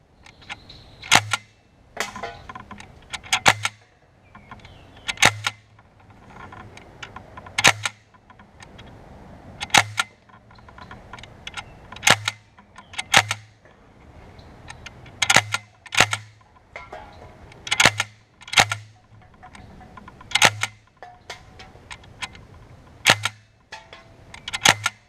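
An MPX 4.5 mm HPA air gun fires repeated sharp cracks at cans, each shot followed by a short metallic ping, about a dozen and a half shots at an irregular pace, near and loud with no talk.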